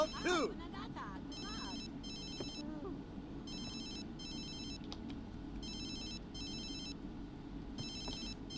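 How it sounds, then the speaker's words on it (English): A game telephone in The Sims 3 rings in repeated short trilling bursts, evenly spaced and fairly loud, over steady background game music and ambience, with a voice speaking near the start. "I really should silence the phone."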